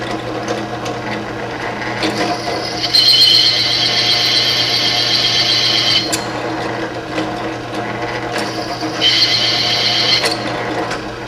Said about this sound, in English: Okay, I drilled my hole.